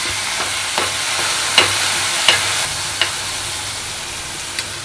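Ground masala for a spicy Maharashtrian dish of chicken feet and heads fries in a pan, giving a steady close sizzle broken by a few sharp scrapes and taps as it is stirred.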